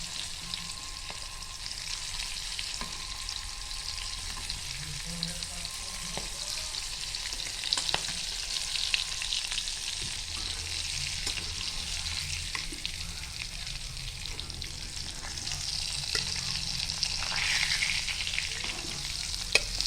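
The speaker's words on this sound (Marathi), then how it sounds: "आता आपण ह्या सर्व कोलंबी फ्राय करून घेऊया" Prawns frying in a pan with a steady, continuous sizzle that holds through the whole stretch, with occasional small crackles and scrapes as they are turned.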